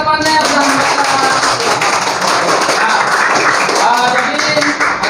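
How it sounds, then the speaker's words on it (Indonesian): Children in a classroom clap together for their classmates after a Quran reading, a dense, sustained round of applause with some voices mixed in. "tepuk tangan dulu untuk teman-temannya yang sudah membaca"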